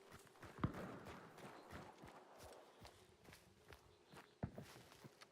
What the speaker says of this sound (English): I'm hearing footsteps over there.